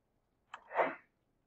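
A single close sneeze with a sharp onset followed by a breathy burst, alone against near silence.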